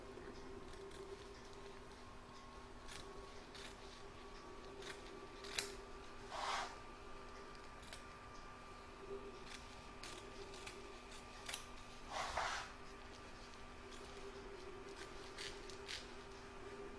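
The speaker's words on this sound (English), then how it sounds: "I'm going to trim up my fabric now. Also the batting and the cutaway stabilizer" Scissors cutting through fabric, batting and cutaway stabilizer while trimming a butterfly appliqué, giving two short, crisp snips several seconds apart over a steady low hum.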